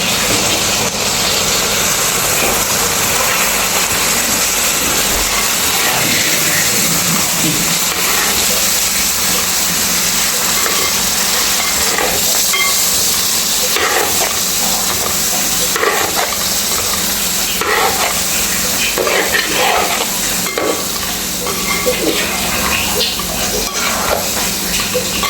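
White vinegar stirred into hot soybean pickle in a pan: a steady, loud hiss and sizzle runs throughout, with intermittent scraping of the spoon breaking through.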